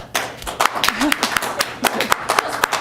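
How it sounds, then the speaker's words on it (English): A round of applause at a governing body special meeting, a small group clapping with distinct, uneven individual claps, with a voice speaking over it. "Round of applause."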